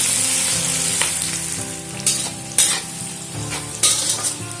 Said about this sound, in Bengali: বিনস আর গাজরটা খুব ভালো করে ভেজে নেব।